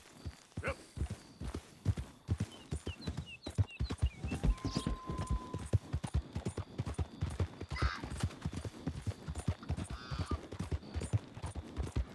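Horse hooves clip-clop in a steady walking rhythm in Red Dead Redemption 2, close and continuous, with a few brief faint whinnies and soft background sounds in the game.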